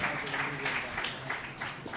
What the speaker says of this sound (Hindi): जोरदार तालियां बजाइएगा भाई विंसेंट के लिए।